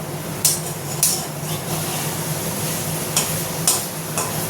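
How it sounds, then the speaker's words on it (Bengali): Meat masala stirred gently in a pan over a low flame: a constant soft sizzle with occasional spatula scrapes spaced a second or so apart, close and moderately loud, with no voices. "এবার একটু হালকা হালকা নাড়তে থাকি"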